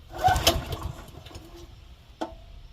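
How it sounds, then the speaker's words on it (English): Pull-starting the cold engine of a Wolfe Ridge Pro 28C log splitter: a rasping rope pull with sputtering that fails to catch, then a second sharp pull a moment later, close by. "Let's see if it takes 1 or 2 pulls. A little throttle."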